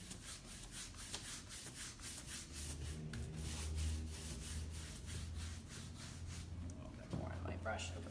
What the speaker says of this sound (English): Put another coat of wax on up here